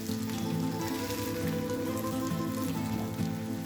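Frozen kebabs fry in oil over a slow flame, a steady close crackling sizzle with a constant low hum beneath, no voices.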